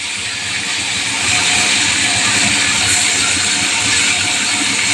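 Soaked hill gooseberries frying in hot oil for a pickle, giving a steady loud hissing sizzle that swells slightly after the first second and holds throughout, with no talking.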